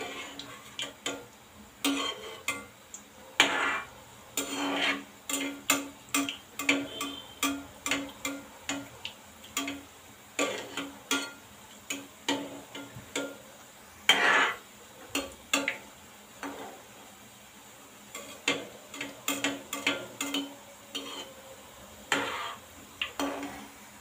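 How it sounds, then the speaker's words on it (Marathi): Modaks deep-frying in hot oil over a medium flame, a steady bubbling sizzle broken by frequent sharp crackles and pops through the whole stretch, close up and moderately loud. "आता हे मोदक चांगले फ्राय करून घेऊया आपण."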